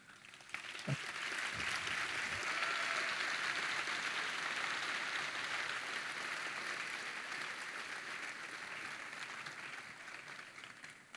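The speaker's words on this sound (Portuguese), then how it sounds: "Eu gostaria de uma salva de palmas para o nosso." A room applauds an honoured former student, the architect Paulo Mendes da Rocha, at a talk: sustained, even clapping that swells early and carries on evenly, fairly distant and soft.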